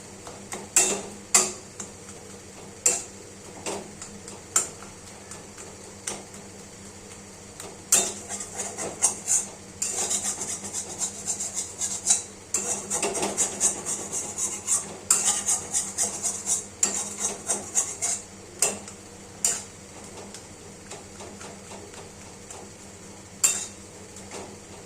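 Thick taro paste (sola kachu bata) being stirred and cooked down in a pan until tight and dry: repeated sharp clinks and scrapes of a utensil against the metal, irregular but frequent, close and fairly quiet.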